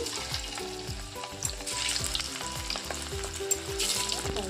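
Pieces of homemade mushroom Manchurian deep-fry steadily in hot oil, a continuous sizzle and bubbling running throughout with a rhythmic musical bed playing underneath.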